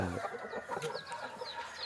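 A hen clucks softly and steadily close by while her chicks peep in high, thin calls all around.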